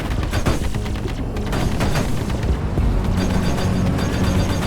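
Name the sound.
spaceship weapons firing in video game Star Citizen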